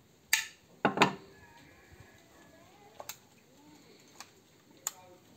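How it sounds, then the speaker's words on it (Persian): A hunting shotgun (Turkish make, steel cap) has its butt stock taken off, giving a few sharp mechanical clicks and clacks, then sparse lighter ticks spaced over several seconds, close by, with no talk. "این بچه قنداقش در میاد."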